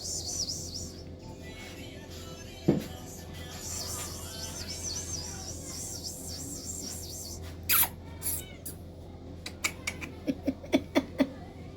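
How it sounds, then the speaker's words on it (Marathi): A cat wandering in and out of a home gives a few faint, wavering meow-like calls early on, followed by scattered light clicks and taps toward the end over a low steady hum; no one speaks. "मांजर आली आहे"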